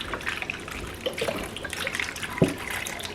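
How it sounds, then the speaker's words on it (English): Water poured into a pot of root vegetable soup, a continuous soft splashing stream with light trickles and a small splash near the end, no talking. "I'm going to add water also because you want this whole thing covered."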